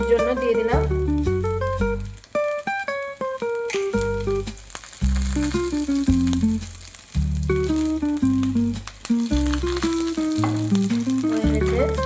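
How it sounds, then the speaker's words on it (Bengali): Black cumin and cumin seeds sizzle in hot oil for tempering while making crispy samosas, a steady frying hiss running under loud melodic background music throughout. "ফোড়নের জন্য কালো জিরে আর জিরে নিয়ে নিয়েছি, ফোড়নের জন্য দিয়ে দিলাম।"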